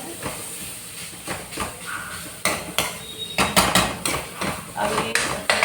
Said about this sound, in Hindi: सबसे पहला हमारा यही है कि लौकी हमें लगातार चलाना है।